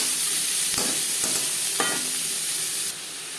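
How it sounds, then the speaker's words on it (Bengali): Chopped onions, four of them, hit leftover fish-frying oil with a steady close sizzle, broken by a few scraping stirs of a spatula in the pan. "মাছ ভেজে নেওয়া তেলে দিয়ে দেবো পেঁয়াজ কুচি"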